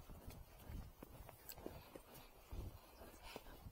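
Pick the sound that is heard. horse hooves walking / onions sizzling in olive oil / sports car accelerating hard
horse hooves walking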